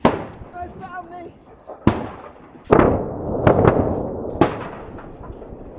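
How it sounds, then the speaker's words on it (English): Gunshots ring out in the Alps, several sharp cracks spaced a second or so apart, each followed by a long echo rolling around the valley. A voice speaks faintly near the start. "Did you hear that? Gunshots."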